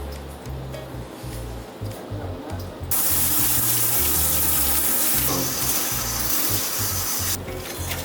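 A handheld shower sprayer bursts on about three seconds in and hisses steadily, close and loud, while a dog is bathed, with a short dip midway before it cuts off near the end.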